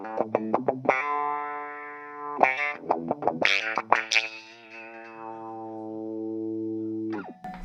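Electric guitar played through a Fender envelope filter pedal gives quacky, squishy plucked notes: a quick run of short picked attacks, then a long sustained note that sweeps and slowly decays, with a few more plucks at the end.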